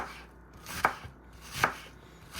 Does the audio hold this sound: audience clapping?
no